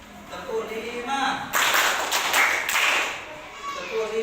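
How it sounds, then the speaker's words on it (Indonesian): A group claps hands five times in a quick, even rhythm, the sharp claps standing out loudly between stretches of voices. "tepuk lima."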